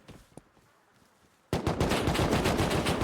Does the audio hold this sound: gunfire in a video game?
yes